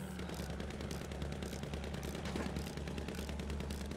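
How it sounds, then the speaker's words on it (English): Rapid gunfire in the video game Battlefield 1, dense bursts of shots crackling continuously over a rumbling battlefield background, moderately loud throughout. "Probably just normal shots"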